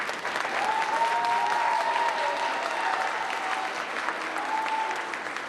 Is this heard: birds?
no